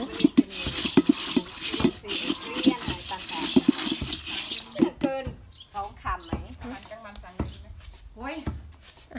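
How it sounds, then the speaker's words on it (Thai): Rice is dry-roasted in a pan and stirred constantly, a busy scraping and rattling of grains and utensil for about five seconds, followed by people talking over lighter stirring. "วิธีการคั่วข้าวเราต้องคน คนตลอดให้มันสม่ำเสมอ"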